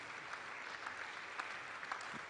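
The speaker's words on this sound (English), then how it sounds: "let's keep the applause going" Audience applause at a youth dialogue event in Sunyani, a soft, steady patter of many hands clapping that sounds fairly distant and continues evenly throughout.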